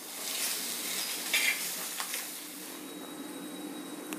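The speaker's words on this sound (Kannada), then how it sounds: "ಎಣ್ಣೆ ಬಿಸಿ ಆಗಿದೆ ಜೀರಿಗೆ ಹಾಕಿದೆ" Cumin seeds crackle in hot oil in a kadai while stuffing for veg momos is being made: a soft, steady sizzle with a couple of light utensil clinks, fairly quiet and with no voices.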